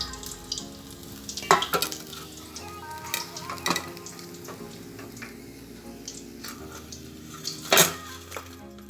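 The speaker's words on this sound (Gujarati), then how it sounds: "ચાલો હવે આપણે તળી લઈએ. ધીમા તાપે તળવાના." Pizza samosas deep-frying in oil on low heat, a soft steady sizzle with occasional louder clinks of a utensil against the pan, close and without talk.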